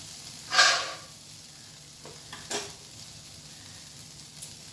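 Soft frying sizzle of spiny gourd in a little oil in a pan, with a short hissing burst near the start and a few faint crackles and scrapes afterward.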